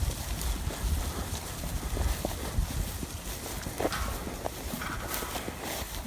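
Texel ewes trotting past on a farm, a busy patter of many hooves that carries steadily throughout without voices.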